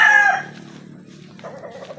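A rooster gives a short, loud crow at the start that quickly fades, followed by soft clucking near the end, with no talking.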